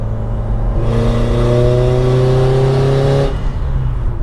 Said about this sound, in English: That's just giving it like that much throttle and the turbo's already building.